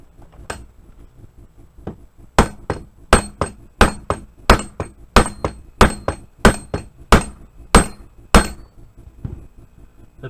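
Repeated hard metallic strikes of a hammer on a stuck pin in an SKS rifle, about a dozen loud, evenly spaced blows after a couple of lighter taps, close and ringing, with no voices.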